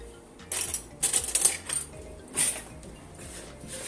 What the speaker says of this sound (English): And I have to stir them together with the spoon.